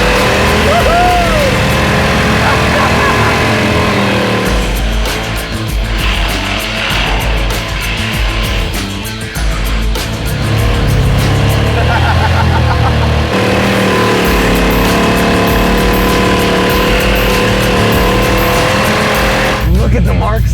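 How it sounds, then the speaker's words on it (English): A car engine revs hard as tires squeal, spin and smoke in a parking lot in a loud, sustained roar, with excited voices shouting over the noise. "We didn't drive this engine 3 feet before smoking tires."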